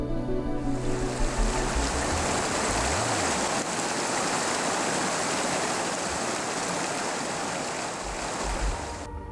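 A mountain stream flowing beside a campsite near a small village, a steady loud rushing of water that fills the whole stretch without breaks, no voices.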